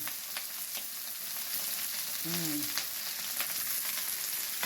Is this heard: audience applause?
no